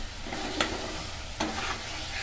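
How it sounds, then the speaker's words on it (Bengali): Spice masala for Bengali pabda fish curry being sautéed in oil, a quiet, steady sizzle with two brief scraping strokes of a spoon against the pan. "ভালো করে কষিয়ে নিচ্ছি।"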